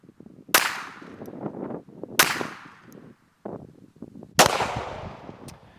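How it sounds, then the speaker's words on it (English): Pistol shots from an MPA double-stack 9mm 2011 at a 15-yard range: sharp, loud, widely spaced cracks with short echoing tails and quieter handling noise between them. "All right, 5-shot group at 15."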